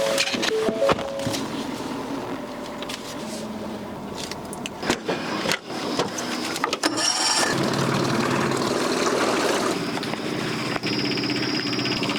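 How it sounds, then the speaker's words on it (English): A steady boat engine drone runs throughout while leaving a marina on Guntersville Lake, loud and continuous, with clicks and mechanical shifts early on before settling into an even idle hum. "we're idling out of the marina now"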